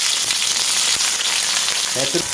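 Chicken and chili sambal paste frying in hot oil in a pan for a Malaysian chicken soup, with a loud, steady sizzle running throughout and a brief stirring clatter near the end.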